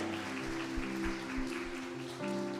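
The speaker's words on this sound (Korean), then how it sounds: "높은 박수 올려드리기 원합니다." A church congregation applauds during a Sunday worship service, a diffuse wash of clapping that runs over sustained music tones, fairly steady and moderately loud throughout.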